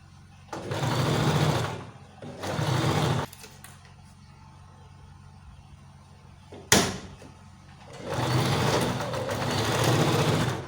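A sewing machine stitches the seam of a simple camisole top, first in two close runs, then pausing with a sharp knock before one longer steady run of whirring stitching.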